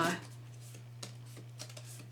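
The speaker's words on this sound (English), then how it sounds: "So I'm just gonna fold that, and then using my bone folder, really give it a good" A bone folder rubs along a crease in folded cardstock, several soft scraping strokes against a faint background hum, with no voice over the sound.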